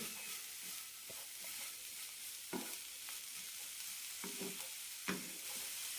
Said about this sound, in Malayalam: ക്യാരറ്റും ക്യാബേജും എല്ലാം മുക്കാൽ ഭാഗം വെന്ത് കിട്ടണം അതൊരു വഴറ്റാം